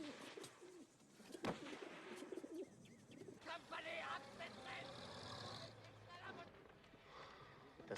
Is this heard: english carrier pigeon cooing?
yes